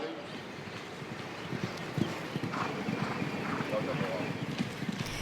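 Racehorses' hooves clip-clop steadily on a track before dawn, a brisk continuous patter of many hoofbeats with a horse whinnying, wind buffeting the microphone and voices in the background.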